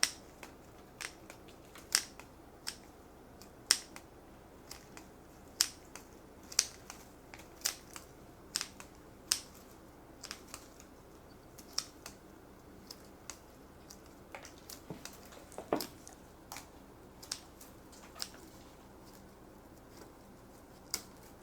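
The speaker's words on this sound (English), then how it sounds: "In winter, we can trim all the branches of Mogra Jasmine" Shears trimming Mogra Jasmine branches in a quiet garden, a scattered series of crisp snips and clicks spaced a second or so apart, light and close over a faint background hum.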